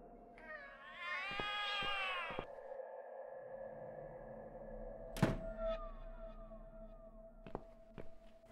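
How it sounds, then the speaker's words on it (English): A cat in The Cat Lady horror video game lets out a long, wavering meow early on, followed by low droning tones, a sharp thump and a few faint knocks. "The cats call for me."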